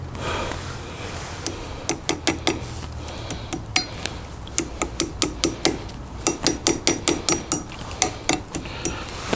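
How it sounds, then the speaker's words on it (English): Repeated hammer blows on metal parts of a CFMOTO CFORCE 600 ATV while a 1.5-inch Perfex lift kit goes in, sharp clanging strikes in quick irregular bursts over a steady shop hum. "And the hammer."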